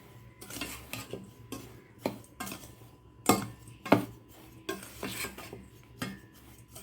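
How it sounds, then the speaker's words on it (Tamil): A spoon scrapes and knocks around a pan while millet flour and sugar are stirred together for millet laddu, giving a series of irregular clinks and scrapes with quiet pauses between, close and fairly soft. "நல்லா கிண்டி விட்டுக்கோங்க"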